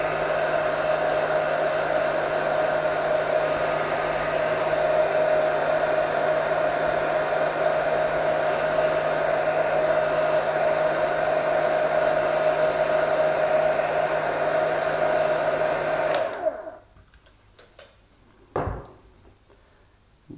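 A hair dryer drying decals on a Tamiya SC430 model car blows with a steady, loud whir for about sixteen seconds, then cuts off, leaving a couple of faint clicks and a soft bump.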